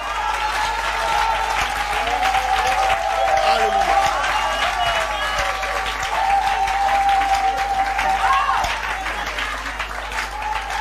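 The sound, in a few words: church congregation applauding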